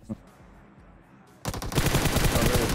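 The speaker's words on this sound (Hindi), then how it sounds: "जिस हिसाब से गोलियां चल रही थी ना, मैं समझ गया यार कम से कम 3-4 बंदे तो होंगे ही होंगे आगे" Gunfire in the battle-royale game PUBG Mobile, starting with scattered shots under low background rumble, then bursting into loud, dense, rapid automatic fire that continues steadily.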